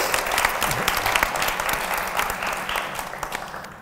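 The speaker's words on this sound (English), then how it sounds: "Give a round of applause." An audience at a poetry event in memory of bell hooks applauds: dense, steady clapping from a sizable crowd that stays loud and slowly fades over a few seconds.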